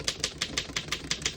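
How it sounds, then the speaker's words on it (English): Keys striking on a 1929 Underwood No. 3 desktop typewriter, eight crisp, evenly spaced clacks in a quick steady rhythm, close and clear with no talk. "Now we're going to finish typing."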